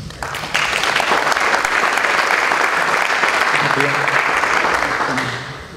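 A conference audience at a ball-sports symposium applauds steadily to welcome a speaker, a dense wash of close clapping that holds for several seconds and then begins to taper off.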